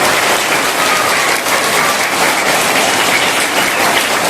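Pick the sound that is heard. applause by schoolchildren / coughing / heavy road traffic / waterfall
applause by schoolchildren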